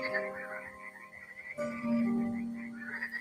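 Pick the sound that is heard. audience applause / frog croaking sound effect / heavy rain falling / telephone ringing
frog croaking sound effect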